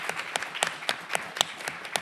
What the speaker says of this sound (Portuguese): Eu quero pedir a todos vocês uma salva de palmas aí para a equipe da produção